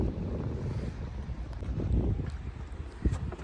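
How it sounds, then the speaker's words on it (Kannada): Wind gusts buffet the microphone on a small fishing boat out at sea near Malpe, a low rumbling roar that swells and dips unevenly over a few seconds. "ಸ್ವಲ್ಪ ಗಾಳಿ ಪ್ರಾರಂಭವಾಯಿತು, ಗಾಳಿ ಶುರುವಾಯಿತು."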